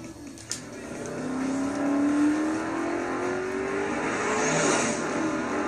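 Racing car engines from Burnout Revenge rise in a sustained, revving whine, close and loud, with a sharp knock near the start and pitch sweeping upward.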